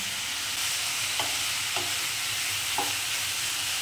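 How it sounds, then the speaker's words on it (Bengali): Coconut curry masala sautés in a pan with a constant hiss, and a spoon scrapes through it in three distinct stirring strokes. "নিয়ে এবারে বাড়িয়ে বাড়িয়ে সমস্ত জিনিসটা আমি কষতে থাকলাম"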